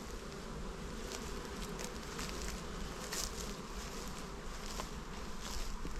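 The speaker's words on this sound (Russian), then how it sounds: "Ну тоже пчела работает." A steady, dense hum of many honeybees buzzing continuously close by at a hive, with no voices, just the constant insect drone throughout.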